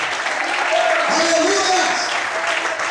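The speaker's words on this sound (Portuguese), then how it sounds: "Quem acredita nisso, levanta a mão para o céu, bate palma e adora Ele nessa noite." A church congregation claps together in a steady, dense wash of applause during a worship service, with a voice rising over it partway through.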